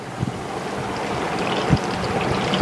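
Water gushes steadily from the pipe of a wet grinder when the motor is switched on, a continuous splashing flow with a few louder spurts, heard alone.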